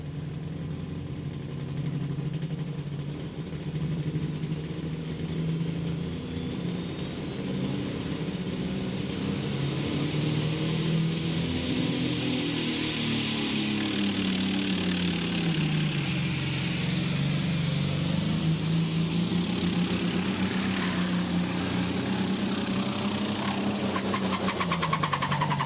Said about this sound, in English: You could hear the RPMs of the tractor not just correct as he left the line.